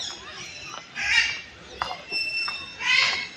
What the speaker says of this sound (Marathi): पोपट आहे हा बोलतोय.